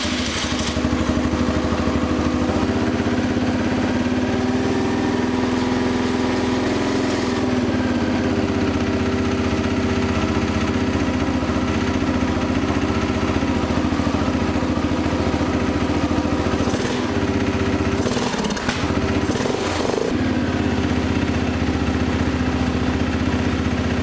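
A Yamaha Grizzly 600 quad engine runs steadily at idle after being started, a loud continuous mid-pitched chug with light mechanical clatter and brief rougher flutters near the end, no voices over it.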